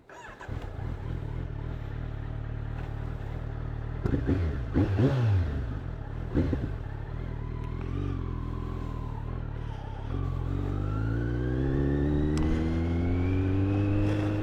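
Motorcycle riding with the rider's helmet visor still open: a loud, close engine drone with rising revs and shifting gears, buffeted by wind noise and a brief rumble midway.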